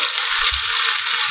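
Spices fry in a hot pan with a continuous, loud, close sizzle and faint low stirring bumps underneath; no voices are heard.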